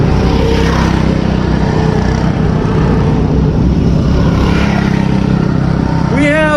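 Mod racing karts roar steadily around a race track, engines droning loud and close throughout with continuous revving, and a brief rising whine near the end.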